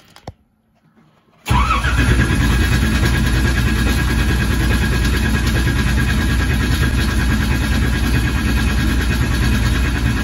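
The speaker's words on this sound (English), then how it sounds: "I'm gonna crank it up and hopefully it starts" After a short near-silent pause, an engine abruptly begins cranking over and keeps churning steadily for about nine seconds without catching, loud and close with no voices.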